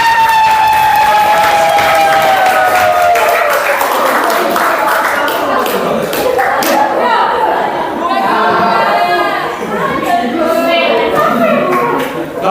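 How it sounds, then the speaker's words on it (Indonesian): Classroom students clapping for a presenting group, steady mixed applause rising over a teacher's voice and some chatter, with brief cheers scattered through. "Silakan kita beri aplaus semangat untuk kelompok 3"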